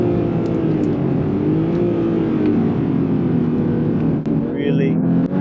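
A Porsche 911 Turbo S, the most powerful version, holds a steady loud engine drone while being pushed lap after lap on a race track, a continuous near whir with brief dips.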